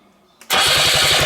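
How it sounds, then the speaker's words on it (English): A Trabant engine turned over by its starter motor: a short click, then a loud, close, rapid rhythmic cranking churn that continues steadily to the end. "there we go. It turns over."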